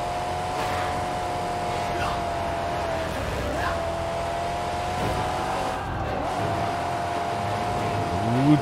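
Engine of a car in the Mad Max video game drones steadily as it accelerates, with brief pitch sweeps and a tire squeal building near the end.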